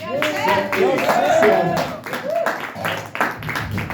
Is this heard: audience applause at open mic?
yes